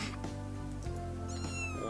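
Kitten meowing in the video game Kendo Crush, a short plaintive cry heard close over a steady game music background, with no talking.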